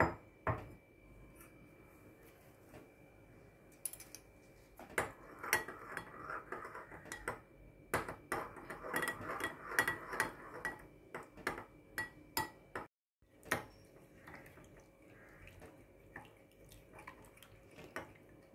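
Eggs being mixed in a bowl while making honey chilli chicken, a long run of light clinking and tapping of utensil against the bowl, quiet and irregular with brief pauses.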